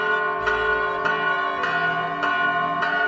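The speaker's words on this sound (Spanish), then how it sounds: "Escucha, Antonio, ya es mediodía y las campanas nos invitan a detener un momento nuestras labores para hacer oración" Church bells ring at midday in steady, evenly spaced strikes, loud and resonant, with a long sustained hum carrying between the blows and no one talking.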